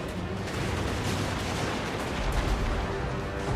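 Troops in a Warhammer 2v2 battle game fire volleys into Karl Franz, a dense, continuous roar of massed gunfire and crackling shots with no pauses.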